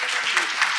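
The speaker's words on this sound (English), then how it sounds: "And I'd like to just give a round of applause to Gordon Price." Applause from a panel discussion audience, a brief burst of steady clapping at moderate volume.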